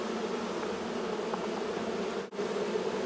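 Honey bees buzz around an opened top bar hive during a transfer from a Langstroth hive, a dense, steady, close hum of many wings that dips in one brief gap.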